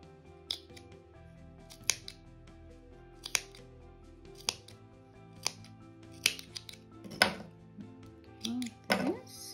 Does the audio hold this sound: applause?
no